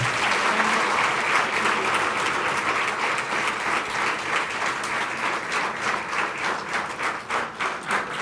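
An audience at an Induction Programme 2024 felicitation ceremony breaks into a huge round of applause: dense, sustained clapping from many hands that fills the whole stretch at steady loudness.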